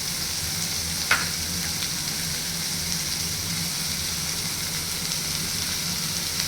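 Ginger garlic paste sizzling and frying in a hot pan, a steady dense crackle throughout with one brief scrape of stirring near the start; no voices.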